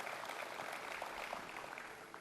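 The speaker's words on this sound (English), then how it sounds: "Let's give him a round of applause" Applause from an audience at a public announcement event, a steady, fairly faint patter of many hands clapping throughout.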